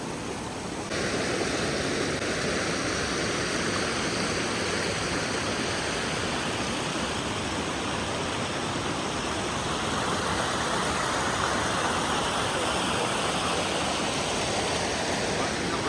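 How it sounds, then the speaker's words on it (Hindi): Icy mountain river rushing past near Shoja, a dense, continuous roar of flowing water close by that fills the whole stretch without letup. "पूरी रिवर जा रही है नीचे"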